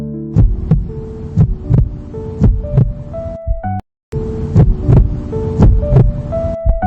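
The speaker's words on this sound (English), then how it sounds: "The heartbeat came through, the sound of new life." Steady, rhythmic thumping heartbeat, muffled and low, with a soft whooshing hum between beats and a brief silent gap midway.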